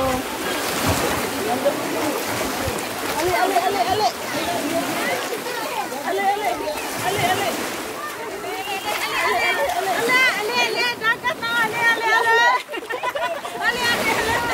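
Family swimming in the sea at a beach resort, with continuous splashing and lapping water under frequent talk and shouting voices.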